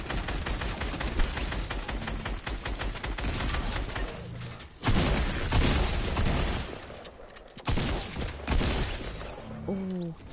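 Video game shootout with repeated gunshots in quick bursts, several loud blasts breaking through a busy mix of game sounds and music.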